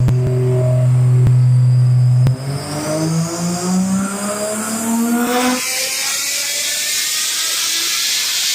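A car with an RB25DET engine revs hard on a dyno. A steady loud tone climbs as the engine accelerates, then breaks into a harsh, roaring rush of high-rpm exhaust and mechanical noise that holds to the end.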